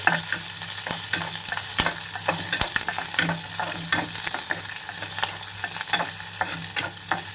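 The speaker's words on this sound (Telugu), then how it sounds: "ఇక్కడైతే పచ్చిమిరపకాయలు మొత్తం వేస్తున్నాను కొంచెంగా వేయించుకుంటే సరిపోతుంది" Green chillies frying in a little oil in a pan, with a steady crackling sizzle and scattered sharp pops under intermittent stirring, close and continuous with no one talking.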